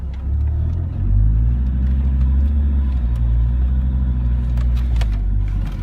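A Land Rover Discovery 2 engine labours steadily through deep, muddy ruts with light throttle, a low, continuous rumble that swells slightly and holds close and loud throughout.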